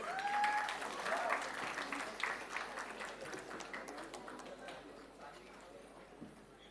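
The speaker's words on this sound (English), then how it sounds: "We can continue clapping." Audience applause fills a hall at a BBA management and marketing convocation ceremony, dense crowd clapping loud at first, then gradually thinning and fading over several seconds.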